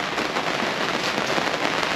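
Steady, dense rain falls on a sailboat on the North Sea, a loud, continuous patter and hiss that fills the scene without a break.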